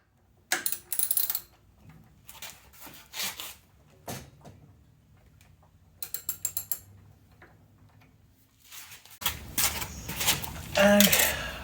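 A spanner fitted with a T50 star-shaped bit removing a screw while installing saddlebag supports on a 2016 Harley Sportster, heard as bursts of close metallic ratcheting clicks, with a voice talking over parts of it.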